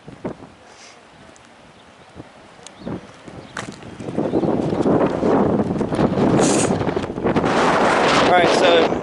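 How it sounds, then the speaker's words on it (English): Strong wind buffets the microphone outdoors, rumbling and gusting louder in the second half, with brief clicks and a voice speaking at times. "as you can tell from the sound, it's windy as hell"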